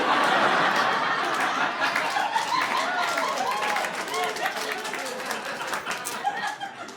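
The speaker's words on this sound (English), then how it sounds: "Thank you for applauding Coinstar." Stand-up comedy audience applauding and laughing together, a loud dense crowd clap that tapers slowly, with chuckles and murmurs mixed in.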